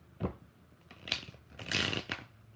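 Tarot cards being shuffled during a live reading, with several quick riffling bursts of crisp card noise separated by short pauses, close and fairly quiet.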